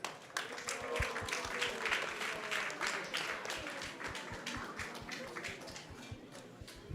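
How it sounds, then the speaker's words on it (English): An audience at a Krishna Katha discourse gives a round of applause, a moderate, somewhat distant patter of clapping that slowly thins out, with faint voices in the room. "So let's give them a big round of applause as well"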